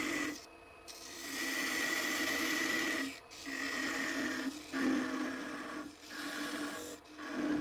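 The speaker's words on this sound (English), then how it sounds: "Once the exterior shape is finished, I cut the salt shaker off the base." A wood lathe grinds steadily as a tool scrapes and cuts a turned wooden salt shaker off its base on the spinning wood, with a few brief pauses in the rasping.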